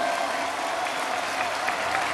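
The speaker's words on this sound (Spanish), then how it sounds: "lo vamos a aplaudir" An audience applauds Pope Benedict XVI at the opening of World Youth Day in Panama, a dense, steady wash of clapping from a large crowd that fills the whole stretch at an even level.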